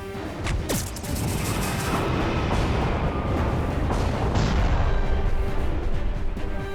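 A portal cannon fires in the space strategy game Halcyon 6, a heavy booming blast with crashing impact and a sweeping sci-fi tone, followed by a sustained rumbling tail.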